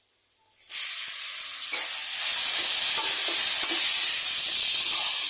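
Grated amla hits a pan of hot oil with turmeric, bursting into a loud, close, continuous sizzle that builds within the first two seconds and holds steady with faint stirring, no talking.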